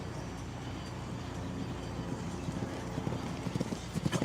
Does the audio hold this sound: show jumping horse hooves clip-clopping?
yes